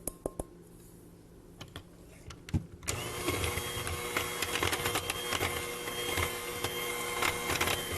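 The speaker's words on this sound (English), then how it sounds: "And blend that all together." An electric mixer blends sweet potato muffin batter. It starts with a few clicks and handling sounds, then the motor comes on, a loud steady whirring drone, close by, that holds to the end.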